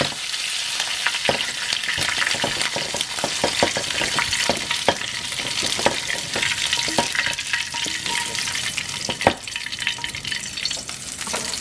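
Shrimp fry in oil in a pan with a loud, continuous sizzle, broken by frequent sharp pops and crackles throughout and no voices.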